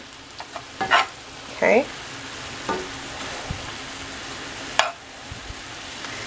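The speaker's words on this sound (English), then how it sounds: "Flake out my fish. I have it on high heat because I want the liquids to evaporate quickly." Flaked rock cod fries in a pan on high heat, giving a low steady sizzle with a few brief louder crackles and stirring scrapes; one short spoken word is heard.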